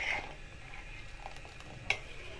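A spoon stirs milk heating in a pot for kulfi, a soft continuous scraping with low simmering hiss and a sharp clink of metal near the end.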